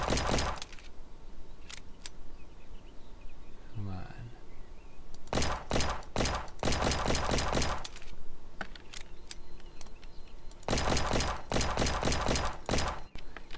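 Gunfire in Roblox comes in bursts of sharp, loud shots separated by pauses, with a person talking at times between the volleys.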